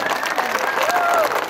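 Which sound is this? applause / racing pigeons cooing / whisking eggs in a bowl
applause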